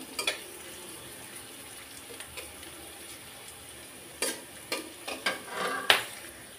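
Onions and garlic fry in a pan with a low, steady sizzle, while a utensil stirs and scrapes the pan in a few sharp clatters near the end.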